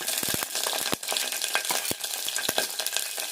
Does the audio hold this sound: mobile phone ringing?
no